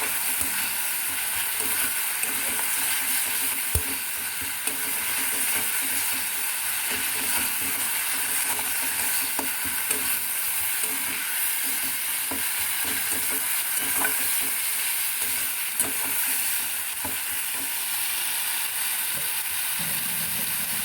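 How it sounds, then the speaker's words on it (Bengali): Egg korma masala stirred and fried in a pan, a steady close sizzle broken by scraping spoon strokes and faint clinks throughout, with no talking. "এটা দিয়ে আবার খুব ভালো করে মেশাতে হবে"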